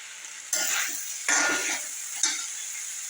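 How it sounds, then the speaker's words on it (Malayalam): Cooked millet rice is stirred into vegetables in a pan, heard as three distinct scraping, sizzling sweeps of the spatula over a soft background hiss. "ഈ പച്ചക്കറിയിലേക്ക് യോജിപ്പിക്കാം കേട്ടോ ചോറിനെ."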